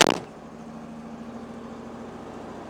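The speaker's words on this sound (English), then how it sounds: "take you outside, show the engine running." A 1971 Karmann Ghia engine catches with a brief burst, then settles into a steady, low idling hum that holds evenly to the end.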